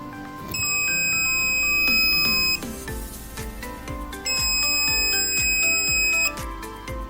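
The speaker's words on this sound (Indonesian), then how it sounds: "Jadi kalian bisa gunakan resistor untuk mengurangi suara dari si buzzer." An Arduino buzzer wired straight to 5 volts beeps loudly in two long, shrill, piercing bursts of about two seconds each, with a rhythmic background beat between and beneath them.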